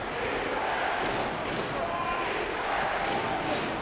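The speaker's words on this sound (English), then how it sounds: "Crowd hype right now." An arena crowd roars in an NBA 2K23 basketball game, a steady, even wash of cheering with no distinct peaks, as if heard from the court.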